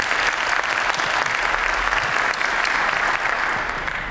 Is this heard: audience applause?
yes